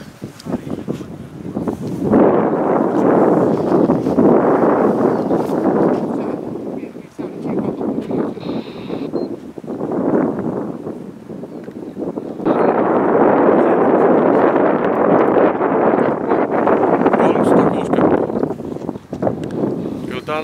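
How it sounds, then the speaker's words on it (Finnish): Strong wind buffets the microphone outdoors with loud, roaring gusts rising and falling across the clip, and a voice speaks between the blasts. "Kyllä täällä tuulee"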